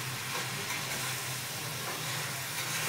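Food sizzles and hisses steadily in a pan as it cooks, a continuous close frying sound with no talking.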